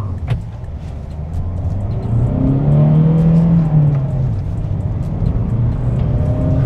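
The 1.5-litre CRDi diesel engine of a Hyundai Venue revs hard toward 5000 RPM during a launch on a road. A loud, rising engine drone swells to a peak and then eases off under steady road and wind noise, with no talking.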